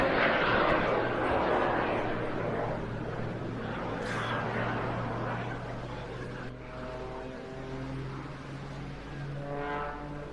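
Twin-jet aircraft performing at a coastal air display, a loud broad roar with a steady low drone, fading slightly then rising again with a rising whine toward the end.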